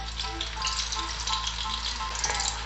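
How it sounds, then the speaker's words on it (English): Onions sizzle steadily in hot oil in a pot for a village spinach stew, a soft continuous frying hiss under a low hum. "I'm going to add my onions now."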